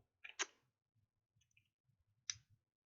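Sparse, quiet clicking from a small handheld gadget: a crisp double click near the start, a faint tick in the middle and one more sharp click toward the end, over a soft low rumble.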